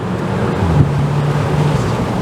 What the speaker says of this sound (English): now you can hear that lovely 2 litre turbo, dual clutch paired